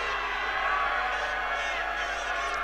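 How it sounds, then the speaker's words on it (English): A crowd roars at an American football game on the far side of the field, a steady, dense wash of distant voices that holds unbroken throughout. "as the crowd starts to roar on the far side opposite us"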